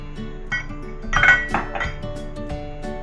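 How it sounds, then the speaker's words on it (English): A spoon stirs oatmeal into a pumpkin spice mixture in a pot, giving a few clinks and scrapes against the metal at close range with no talking, busiest around the middle. "You want to keep stirring as you add in your oatmeal."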